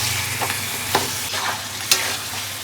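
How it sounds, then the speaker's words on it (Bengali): Pre-fried chicken pieces sizzle and get stirred in a spice masala in a pan, a steady close frying hiss with a few sharp scrapes of the spoon, no voices. "দিয়ে দেবো ভেজে রাখা চিকেন, দিয়ে এবার কষিয়ে নেব।"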